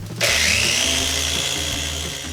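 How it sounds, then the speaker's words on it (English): A power sander starts abruptly and runs with a steady, loud whir and gritty rubbing against a hazy, faded plastic car headlight. "we are sanding off the faded, hazy, bad plastic on the top layer of the headlight"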